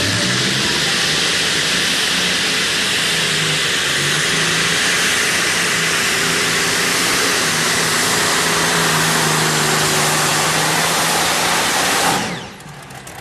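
The Green Fighter pulling tractor roars down the track at the Herning tractor pull, its multiple engines blaring in a loud, sustained, rasping howl for about twelve seconds before abruptly cutting back.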